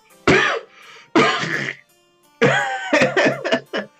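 A person imitates a coughing fit with a series of loud, close, raspy coughs and throat-clearing bursts, one after another with short pauses and a quick cluster at the end.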